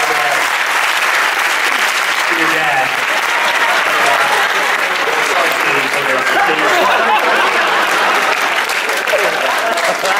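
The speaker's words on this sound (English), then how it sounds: "Big round of applause for Ashetta." Loud, sustained applause from a large cinema audience at a Q&A in Seattle's Cinerama, a dense unbroken roar of clapping with crowd voices mixed in throughout.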